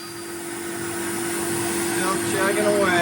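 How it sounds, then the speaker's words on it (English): CNC machine boring holes in knife handles, a steady close mechanical whir and hum with a constant tonal drone that grows slightly louder, while a person speaks over it. "Chugging away, just boring out all the holes."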